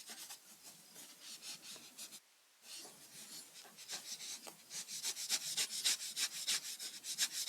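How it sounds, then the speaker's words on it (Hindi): Close, rhythmic rubbing of an object to build up static charge, a rapid series of dry scraping strokes that pause briefly, then resume faster and louder. "देखिए इसको क्या कर रहे हैं? रगड़ रहे हैं।"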